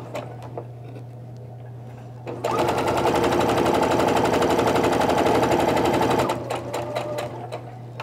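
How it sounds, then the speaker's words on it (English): A sewing machine runs a quarter-inch quilt seam in one close, steady burst of rapid needle chatter lasting about four seconds, with quiet handling sounds before and after. "we're gonna sew down this side and that'll be a quarter inch away here and here"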